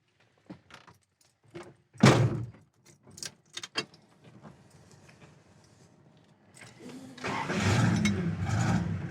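A 1970 Plymouth Barracuda with a six-pack engine cranks and fires up near the end, its idle rising to a steady rumble. Earlier there are keys jangling and a few sharp door or handling clunks.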